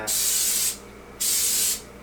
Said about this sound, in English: give a little spray here.